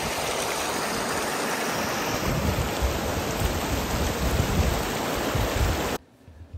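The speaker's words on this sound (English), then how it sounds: "you can see the water, the stream actually flowing right through the snowpack" A mountain stream rushes through snowpack in the Medicine Bow Mountains of Colorado, a loud, steady broadband roar of flowing water that cuts off abruptly near the end.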